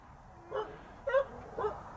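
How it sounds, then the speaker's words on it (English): Neighbor's dog outdoors at a log cabin in semi-rural Colorado, giving three short, fairly quiet yips or whimpering barks spaced about half a second apart. "There's the neighbor's dog."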